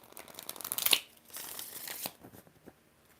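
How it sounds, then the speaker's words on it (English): Tarot cards are shuffled by hand, giving a quick papery riffle that builds to a sharp flutter, followed by softer sliding and tapping of the deck, close and quiet. "4 shuffles."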